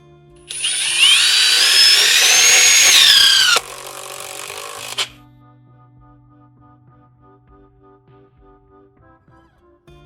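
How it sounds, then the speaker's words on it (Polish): Ryobi R18 DBL impact driver sinking a 5x70 carpentry screw into a pine beam: a loud, rising whine with hammering rattle for about three seconds, then a brief quieter spin and stop, leaving a quiet room. "demonstracja to wkręcanie wkrętu ciesielskiego 5x70 w kantówkę sosnową"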